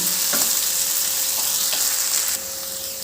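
Tomatoes sauté in a pan with a little salt, a steady broadband sizzle running throughout, with a few soft stirring scrapes near the start and middle; the sizzle drops slightly in level toward the end. No one speaks.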